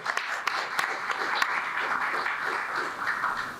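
Students applaud at an interfaith round table, a steady wash of many hands clapping at moderate volume that holds evenly throughout, with no voices over it.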